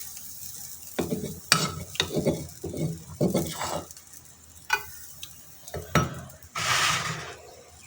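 Garlic and ginger paste fries in oil in a pot while cooking chicken macaroni, with a soft sizzle broken by loud bursts of spoon-stirring and scraping against metal, close up, and no talk.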